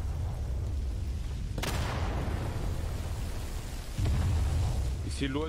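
A Garry's Mod WWI artillery salvo lands as two sharp, heavy booms about two seconds apart, each followed by a rumbling decay. A low battlefield roar runs underneath throughout.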